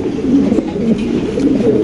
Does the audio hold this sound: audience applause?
no